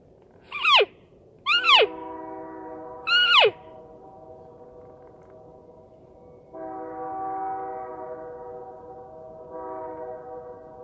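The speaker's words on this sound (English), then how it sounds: "That train's like a mile away. It sounds like it's right next to us." After three short, sweeping elk calls, a train horn about a mile away sounds in long, steady blasts, carrying from afar but clearly audible.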